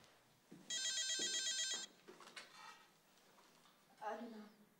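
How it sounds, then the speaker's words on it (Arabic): A telephone rings with an electronic bell tone in one burst lasting about a second, indoors in a drama scene, followed by people talking. "ردي على التليفون، ردي على التليفون"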